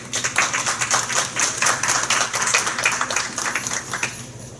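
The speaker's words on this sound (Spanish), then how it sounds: "para el cual pido un fuerte aplauso" Audience applause at a conference on constitutional proceedings, rapid overlapping hand claps forming a steady, fairly loud patter that continues for several seconds and tapers slightly at the end.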